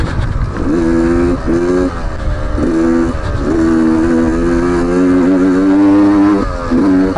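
A 2019 Beta 125 RR Race Edition two-stroke dirt bike being ridden, its engine buzzing loud and close in repeated revving bursts that rise and fall in pitch, with wind rumble.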